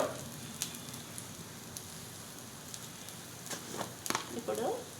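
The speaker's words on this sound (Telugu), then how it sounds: "ఇప్పుడు ఆనియన్స్ వేసాను చూడండి ఫ్రెండ్స్." Chopped onions frying in a pan give off a steady, close hiss of sizzling, with brief crackles and a voice murmuring near the end.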